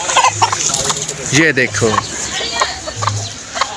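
A rooster clucking in short bursts nearby, with a person talking intermittently over the birds.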